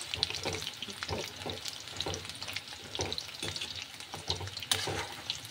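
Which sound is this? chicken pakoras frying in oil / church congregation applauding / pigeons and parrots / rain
chicken pakoras frying in oil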